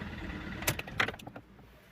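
A few brief metallic jingles of keys rattled near a FIAT Doblo's rear door, close and fairly quiet, over a low steady hum.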